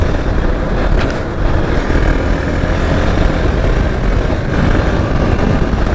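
A Hero Xpulse 200 4V motorcycle rides through city streets, a loud, steady engine and wind roar recorded up close that persists throughout with slight surges.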